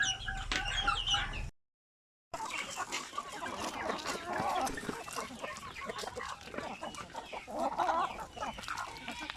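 Chickens cluck repeatedly in a backyard coop kept for feed trials, a busy mix of nearby clucks and calls with a brief dropout of sound partway through.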